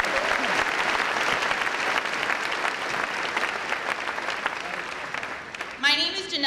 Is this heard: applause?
yes